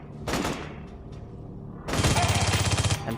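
Mercenaries open fire in Aliens: Colonial Marines: a sharp gunshot, a few faint isolated cracks, then a loud, dense burst of rapid automatic fire that fills the last second and a half.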